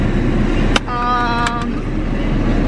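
Low steady cabin rumble inside Cameron's car while riding along, with a couple of sharp clicks and a short tonal chime over the engine and road noise.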